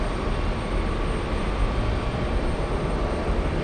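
A steady, loud, broadband jet roar from an SAS Airbus A330 at JFK airport, continuous with no break and no voices.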